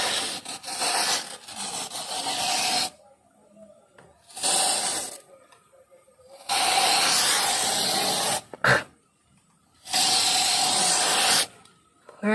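Bursts of a spray applicator on cacao trees come in four or five long hissing blasts of one to two seconds each. Each blast is loud and close, with quiet gaps between them.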